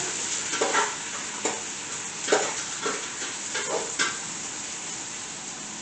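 Shrimp sizzle steadily as they sauté in a pan, with repeated clinks and scrapes of a utensil stirring them throughout.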